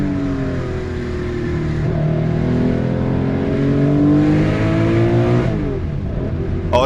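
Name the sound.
classic Porsche engine revving and shifting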